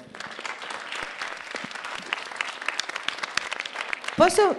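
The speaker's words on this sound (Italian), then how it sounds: "è Arianna, al quale facciamo un bel applauso" A small festival audience claps for a young first-time singer, moderate scattered applause at middling distance, with a voice cutting in briefly near the end.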